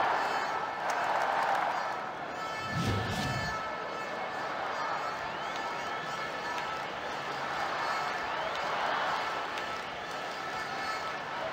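A stadium crowd in the Dream League Soccer game roars and cheers steadily after a goal. The broad wash of noise swells and ebbs throughout, with a brief low thump early on.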